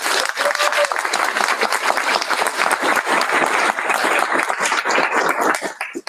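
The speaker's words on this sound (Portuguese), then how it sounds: "uma salva de palmas para ela" An audience at a university keynote talk at Unicamp bursts into dense, steady applause for the speaker, the clapping loud and close and lasting about six seconds without letup.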